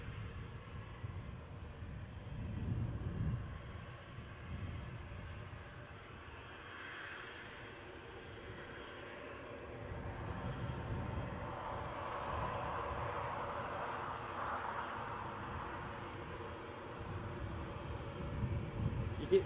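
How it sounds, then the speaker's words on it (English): A British Airways Embraer jet departs Newcastle airport, its engine noise faint and distant, swelling and fading in a low rumble before growing louder toward the end. "That British Airways Embraer is now tracking out."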